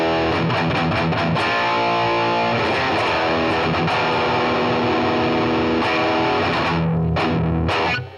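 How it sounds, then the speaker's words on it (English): Boss Katana amp on its high-gain brown sound distortion channel, run at half a watt, plays dense sustained distorted guitar chords with rhythmic chugs for about eight seconds, loud and steady before a sudden cut. "So this is the higher end distortion on it, otherwise known as the brown sound channel."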